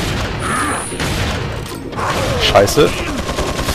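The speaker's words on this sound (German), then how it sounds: "jetzt können wir ihn hoffentlich schnell mit Gewehr salven" Loud rifle volleys in Resident Evil 4 rattle and boom against a busy game backdrop, with a man briefly exclaiming.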